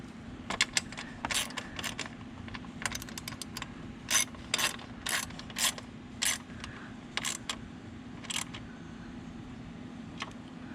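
A ratchet tightening bolts on a CRF450RL motorcycle radiator guard, close and fairly quiet, with rapid clicking bursts repeating irregularly over a low steady hum.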